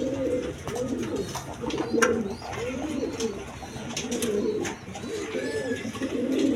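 A pair of Lahori pigeons cooing close by, a repeated rhythmic low burbling coo in steady rounds over light background noise and faint chirps.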